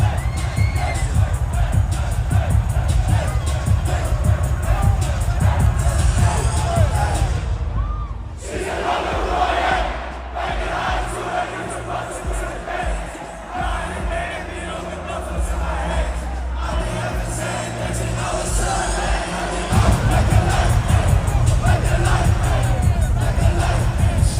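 Large crowd at a concert singing and shouting along loudly and continuously, a dense roar of many voices with a brief dip in the middle before surging back.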